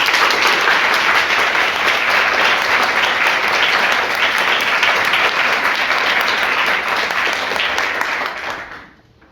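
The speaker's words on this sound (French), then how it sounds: "Je vous demande d'applaudir Maître Olivier Barra." Audience applause for lawyer Olivier Barra at a live mock-trial event, loud dense clapping sustained for about eight seconds before quickly fading out.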